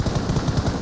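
Rapid burst of gunfire in PUBG Mobile, a close run of sharp, evenly spaced shots over less than a second with no voices.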